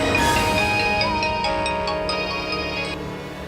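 A phone ringtone plays a bright, repeating electronic melody, clear and fairly loud, with no talking.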